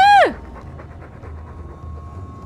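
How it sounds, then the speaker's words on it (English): Dog panting in the video game Dragon Age 2, with a loud voice or chirp at the very start giving way to steady, quieter rhythmic breathing that continues under background game sound. "All that noisy dog breath,"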